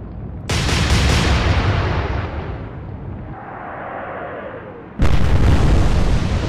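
Warship guns firing armour-piercing shells in the naval game Atlantic Fleet: two loud, close booming salvos a few seconds apart, each with a long rumbling tail, no speech.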